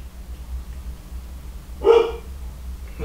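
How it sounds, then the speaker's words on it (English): A black dog gives a single short bark from somewhere in the background over a low steady hum, with a faint start of another sound at the very end. "the black dog's not happy about something back there."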